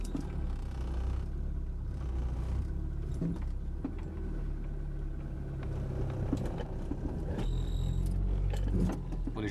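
Steady road rumble and whirring from a Renault Twingo on a short test drive, checking for wheel bearing noise after rear brake work, a continuous low drone with a few faint rattles and no talk.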